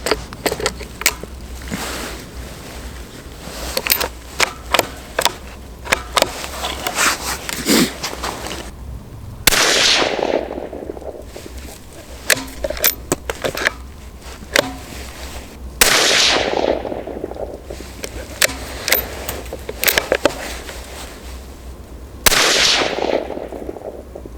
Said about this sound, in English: So this gun, I'm just gonna zero at 50 yards.